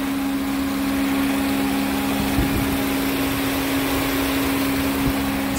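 2019 Subaru Outback 2.5-liter four-cylinder boxer engine idling, a steady low hum with a faint even vibration, constant and unbroken, with a soft thump or two partway through.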